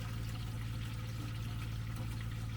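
Water flushing through a campervan's waste tank during pre-holiday checks, a steady continuous pouring rush with a low droning hum underneath, even and unbroken throughout.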